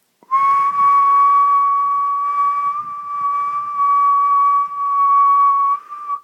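A person whistles a single steady, loud sustained note, holding nearly the same pitch for about six seconds with a slight dip partway through.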